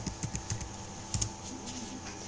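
Quiet computer keyboard typing in a short burst of distinct keystroke clicks, a few quick taps close up, then a pause and two more presses, with faint hum underneath.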